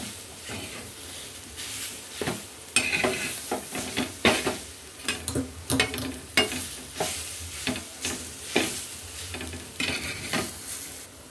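Besan bhurji roasts and breaks up in a pan, a constant close sizzle punctuated by repeated rhythmic scraping and tapping of a spatula against the pan.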